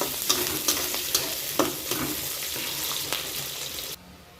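Green chilies and garlic fry in oil with a steady sizzle and scattered scraping stir clicks, close and fairly loud, ending abruptly near the end; no voices.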